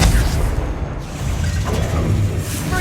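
A Confringo blasting spell explodes in the Hogwarts Legacy video game, a dense, sustained rumbling boom with a heavy low-end roar that holds steady and loud for nearly three seconds.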